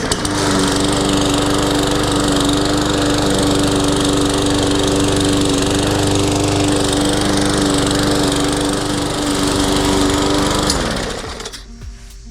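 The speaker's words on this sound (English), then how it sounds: "time to check out good old reliable, this old basic mower." An old basic gas push mower runs loud and steady for about ten seconds, close by and alone, then its engine cuts out and winds down at the end.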